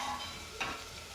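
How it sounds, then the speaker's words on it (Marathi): Onions fry in a pan until lightly browned for a quick spicy khichdi, giving a soft, steady sizzle with one brief scrape of stirring partway through. "कांद्याला हलकासा ब्राऊन कलर येऊपर्यंत परतून घेऊया"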